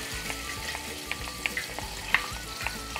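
Golden-browned marinated meatballs fry in a pan with sauce just added, giving a soft continuous sizzle broken by sharp, scattered spattering pops.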